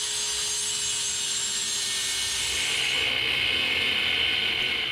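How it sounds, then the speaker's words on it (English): Jigsaw fitted with a metal-cutting blade cutting through steel for a DIY welded bumper, a steady high-pitched buzzing rasp that holds loud and unbroken for the whole stretch, with no talk. "I had the idea to look for metal cutting blades for the jigsaw"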